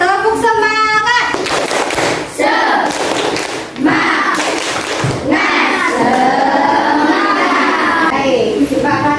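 Schoolchildren perform the rhythmic 'tepuk semangat' clap in a classroom, sharp claps in patterned bursts mixed with the children chanting in unison, loud and close.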